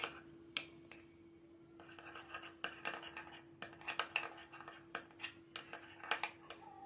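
Spoon stirring a hair oil blend with drops of ylang-ylang essential oil in a small container: light, quiet clinks and scrapes in an irregular rhythm over a faint steady hum.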